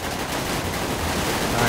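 Rapid automatic gunfire at a GTA 5 shooting range, a brief unbroken burst of dense shots, loud and near, swelling slightly at the end.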